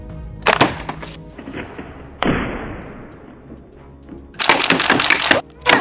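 A coilgun fires at a water-filled balloon about five meters away, giving a sharp impact followed by a splashing, hissing burst that fades out, with other loud thuds before and after.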